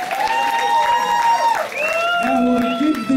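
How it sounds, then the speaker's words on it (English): A television dance competition audience applauds after a performance, steady broadband clapping that runs the whole stretch, mixed with music and voices. "Come on, round of applause,"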